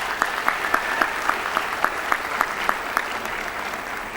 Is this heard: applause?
yes